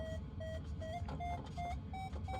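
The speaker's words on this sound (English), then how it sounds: "It's beeping now." Electronic beeping from an instrument in a glider in Microsoft Flight Simulator 2020, a run of short, clear tonal beeps at shifting pitches repeating in quick succession over a steady low cockpit hum.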